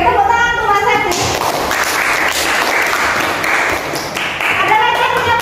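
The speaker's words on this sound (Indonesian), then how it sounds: "Oke, tepuk tangan untuk Mas Sati" A classroom full of students applauds a classmate, with loud, brisk clapping that carries for several seconds, while a teacher's voice speaks at the start and end.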